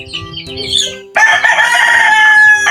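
A White Kelso rooster crows loudly and close by, a long strained call following some softer clucking and chirping.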